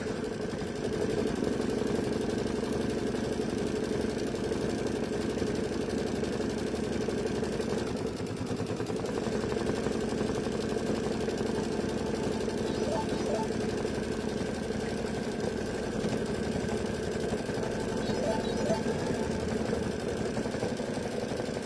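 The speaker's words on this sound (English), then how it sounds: "next it's going to do the satin stitch" An embroidery machine stitches a satin stitch on a pillow project, giving a continuous, steady mechanical whir and hum that stays at an even level throughout.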